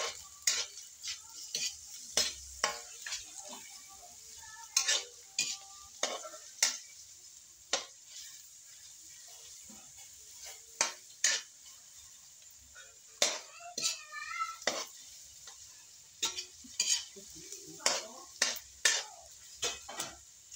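Onion and garlic being sautéed in a pan, with a soft sizzle under repeated sharp scrapes and clinks of a utensil stirring against the metal.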